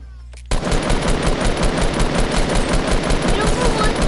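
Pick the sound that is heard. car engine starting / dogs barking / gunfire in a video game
gunfire in a video game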